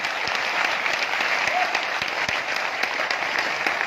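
An audience at a business seminar in Delhi applauds, a dense, steady round of clapping with scattered sharp individual claps, moderately loud throughout.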